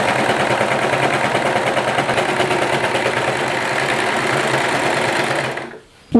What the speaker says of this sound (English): And let's start serging.